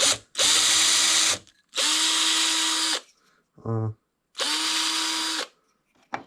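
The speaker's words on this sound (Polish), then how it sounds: "Ja sobie najpierw wywiercę dziurkę tutaj cienkim wiertłem, żeby mi to drewno nie pękło po prostu" A power drill whirs loudly in three long bursts with pauses between them, boring a pilot hole in wood with a thin bit, and a short voiced sound comes in one gap.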